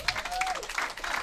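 A crowd at a PWBA women's bowling match play event applauds a spare, brief dense clapping with a faint voice rising underneath.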